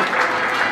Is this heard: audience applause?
yes